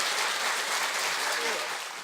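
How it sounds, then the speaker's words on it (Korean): A lecture audience at a citizens' academy in the National Assembly of Korea applauds, producing dense, even clapping at moderate volume that tapers off slightly at the end. "박수를 청해 보겠습니다"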